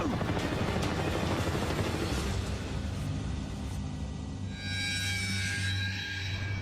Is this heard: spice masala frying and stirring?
no